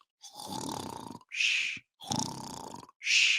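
A voice imitates snoring with two drawn-out, rumbling inhaled snores, each followed by a short breathy exhale, performed close to the microphone.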